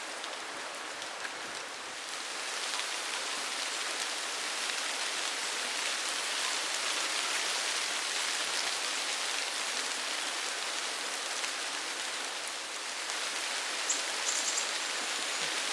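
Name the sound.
rain falling outdoors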